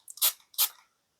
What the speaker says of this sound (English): the spray is like, let's see if I can capture it